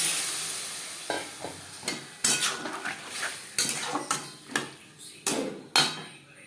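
Raw mango sizzles in a pan for a jelly chutney, with a spoon knocking and scraping the metal in uneven strokes over soft frying, close and with no speech.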